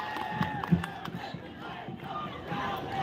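A large crowd at a tribal solidarity protest rally in New Delhi shouts and cheers in a rowdy, sustained roar, with scattered louder yells rising out of the noise.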